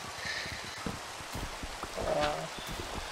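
Steady rain falling in Minecraft, a soft continuous hiss of drops with faint thunder-like rumble, while a voice speaks briefly over it.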